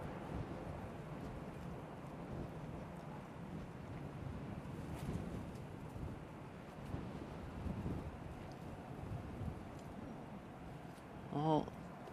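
Breezy wind at Manchester Airport buffets the microphone in a steady, rumbling rush that swells and eases, with a brief voice near the end.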